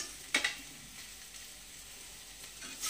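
Onion and turmeric fry in oil over high gas heat in a Bengali kitchen, a faint steady sizzle with a couple of brief sharp crackles as ingredients hit the pan, no voices.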